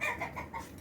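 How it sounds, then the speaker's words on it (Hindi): A hen gives a quick run of soft, close clucks in a brief burst, rhythmic and moderately quiet, with no voices over it. "ओए अल्लाह, मुर्गी चली जा यहाँ से, मुर्गी चली जा"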